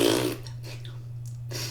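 A person imitates a loud, obnoxious fart noise with their mouth, a short buzzy blurt at the start followed by a few fainter breathy bursts.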